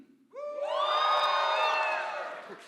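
An indoor crowd at a club-style event lets out one loud, sustained scream and cheer that swells quickly, holds for about two seconds and then tapers off.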